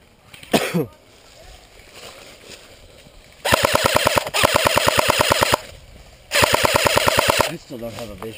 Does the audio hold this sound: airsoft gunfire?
yes